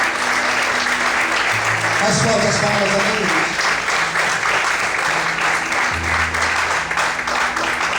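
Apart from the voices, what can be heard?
church congregation applause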